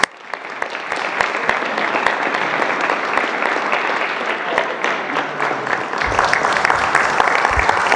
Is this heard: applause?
yes